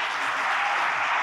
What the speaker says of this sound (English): can we have a round of applause for this fantastic panel?